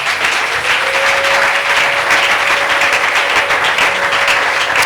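A church congregation applauds loudly and continuously, a thick sustained wall of clapping close by, with a faint held tone running underneath.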